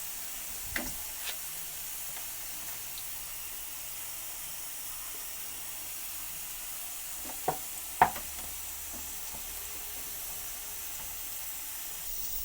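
Pumpkin fritters fry in a pan with a steady, soft sizzle and hiss, broken by a few brief utensil clicks near the start and again around the middle.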